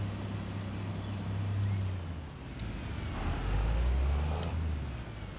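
A logging truck with a smaller trailer in Farming Simulator 25 reverses through a forest, a steady low diesel rumble swelling and easing, with a thin whine on top and a soft air-brake hiss, continuous and moderately loud.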